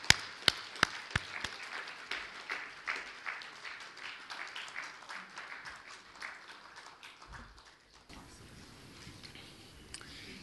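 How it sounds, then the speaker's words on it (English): Conference audience clapping to welcome a speaker at an international gathering, beginning with a few sharp, loud claps and thinning into softer, scattered applause that fades near the end. "So now, with the big clapping, welcome and listen this lecture."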